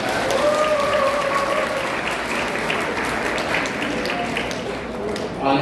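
Wedding guests applaud at a ceremony in a hotel hall, a dense, loud, sustained wash of clapping lasting several seconds with no speech over it.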